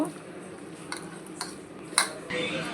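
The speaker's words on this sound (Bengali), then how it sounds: "এবার আমি এটাকে ভালো করে স্ম্যাচ করে নেবো।" Boiled yardlong beans are mashed for bharta in a kitchen: soft squelching with a few light clinks of a utensil against a dish, close and moderately quiet.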